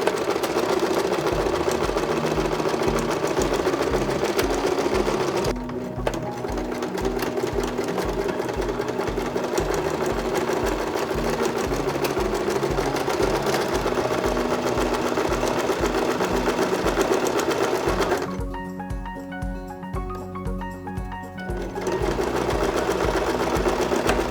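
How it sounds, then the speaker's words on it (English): A sewing machine stitches a doll's fabric petal in a rapid, steady mechanical run, close and loud, with a brief pause partway through and the motor whirring on. "So we'll go ahead and get that stitched up."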